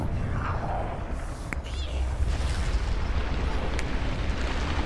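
A low, rumbling blast from Resident Evil Revelations 2, a dense boom-like roar that holds steady for several seconds with a brief sharp pop partway through, loud and continuous rather than a single clean bang.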